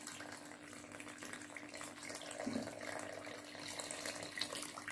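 Cold water poured onto salted flour for quick puff pastry dough makes a faint, steady trickling wash that runs through the whole stretch, quiet and close.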